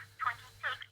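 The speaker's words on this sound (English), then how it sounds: "I hear my other phone ringing." A telephone rings in two short electronic bursts, clear and fairly close, each about a quarter second long, with a faint hum underneath.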